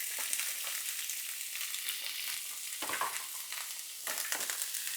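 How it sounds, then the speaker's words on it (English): Chopped jalapeños and onions sauté in avocado oil on a grill, giving a quiet, steady frying sizzle with a couple of brief scraping stirs and no talk. "And then over here we've got some jalapeños cut up, and we've got some onions cut up. And we're going to go ahead and saute them right on here."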